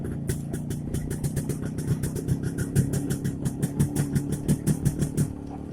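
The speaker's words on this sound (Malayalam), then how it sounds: "ഒരു പ്രത്യേക വൈബാണ് സൗണ്ട്. ട്വിൻ എക്സോസ്റ്റ് ആണ് ഇതിന്." A Yezdi D250 Classic motorcycle with twin exhaust runs close by in second gear, its engine thumping in a rapid, rhythmic pulse with steady mid-low tone and slight surges, no voices over it.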